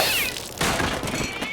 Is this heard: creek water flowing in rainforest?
no